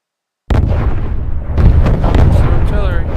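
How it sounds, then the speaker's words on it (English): Heavy artillery fire in the war game Call to Arms, a loud sustained barrage of booming blasts and rumbling impacts that sets in abruptly and stays dense, with a player's voice talking over it. "Artillery."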